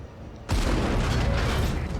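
A World of Tanks tank fires a single heavy derp gun shot, a sudden loud boom that breaks a quiet lull and leaves a long rumbling tail of battle noise.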